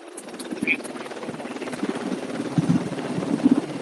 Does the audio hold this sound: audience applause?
no